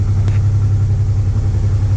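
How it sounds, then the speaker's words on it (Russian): A Honda Transalp 650 motorcycle engine idles cold on choke, recorded from above: a steady, loud, close low rumble that holds an even rhythm throughout with no voices. "записываем звук мотора сверху на холодную сейчас"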